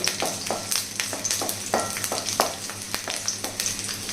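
Garlic slices frying in hot oil for a chutney at a tiffin centre, with a constant close crackling sizzle and repeated sharp stirring taps against the pan, loud and without speech.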